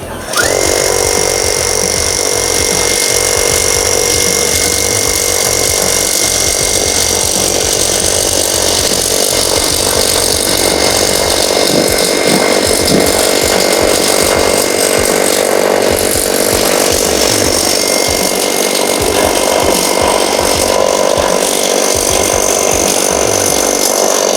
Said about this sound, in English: We're going to drill 10 inches deep.